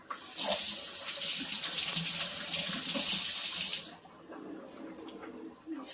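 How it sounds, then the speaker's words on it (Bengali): Water runs from a tap during washing, a steady close splashing stream for about four seconds before it shuts off, leaving quieter room sounds and faint birdsong. "ধুয়ে নিই"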